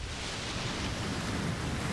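A huge splash churns the water in the underwater survival game Subnautica, heard as a steady, loud, broadband roar of surging, crashing water that holds without a break throughout.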